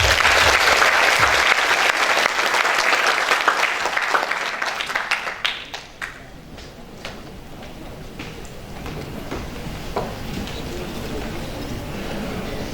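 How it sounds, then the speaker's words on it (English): An audience at a peace foundation webinar event claps in a dense burst of applause that thins out midway into scattered single claps, then fades under faint room noise. "Please join me to give him a big round of applause."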